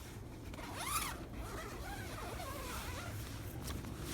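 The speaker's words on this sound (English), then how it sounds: "Where's my zipper?" The door zipper of a four-person camping tent is pulled open in one long ripping stroke, followed by softer rustling of the tent fabric, close up and quiet.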